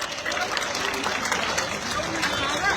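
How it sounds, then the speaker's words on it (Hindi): A crowd at a Rajput gathering in Delhi claps for Prashant Singh in dense, continuous applause mixed with crowd chatter and voices, loud and close throughout. "सब एक बार उनके लिए ताली बजाएंगे।"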